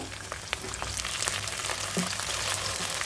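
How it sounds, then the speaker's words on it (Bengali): Shrimp sizzling and frying in a pan with already-fried onions, a steady close crackle and hiss with a few scattered pops and stir clicks, no voices. "এখন আমি এর মধ্যে চিংড়ি মাছগুলো দিয়ে একটু ভালো করে ভেজে নিব।"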